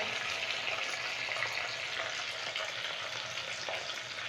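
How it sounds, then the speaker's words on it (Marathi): Steady, dense sizzling of spices and curry leaves crackling in hot oil, close and fairly loud, with occasional sharper pops and no voices. "एकदम मस्त कडक फोडणी तयार झाली बघा"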